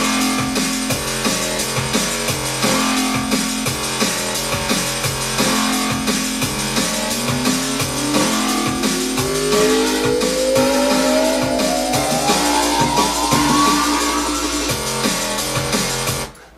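A synth noise riser sweeps steadily upward over a pounding drum and bass beat, building to a crescendo at the end of the bar before the track stops suddenly.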